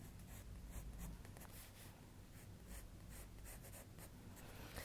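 Pencil drawing and shading on paper, a steady soft scratching with repeated short strokes, close and quiet, with no voices.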